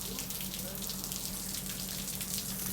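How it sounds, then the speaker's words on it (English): Rain falling around a truck on a pressure-washing workday, a steady broadband hiss of drops that holds evenly for the whole stretch with no voices. "So as you can see, the rain done got to us."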